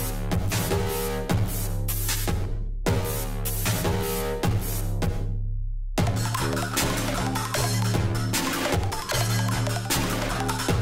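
Heavily overcompressed music mixed into hard clipping: dense, loud and distorted throughout, with two abrupt dropouts to near silence around the third and sixth seconds before the wall of sound resumes.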